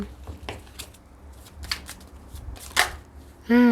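Tarot cards are shuffled and flipped by hand at close range, giving brisk riffling swishes and soft slaps in short bursts, and a voice speaks at the very end.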